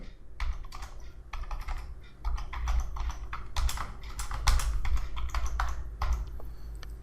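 A password is typed on a computer keyboard in irregular bursts of crisp key taps, close and clear, with short pauses between clusters and no speech.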